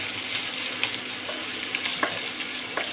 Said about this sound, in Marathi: लसणाचा वाद आपण याला थोडंसं फ्राय करून घेऊया